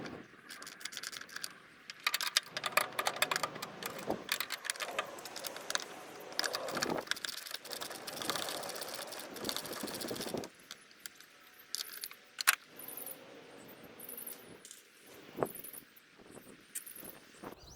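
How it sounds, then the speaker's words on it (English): Metal wrench clinks and keys-like jangling as brake master cylinder nuts are loosened off the brake booster of a Honda Civic, close and irregular, with scattered taps and scrapes throughout. "Okay, I've got the nuts almost all the way off"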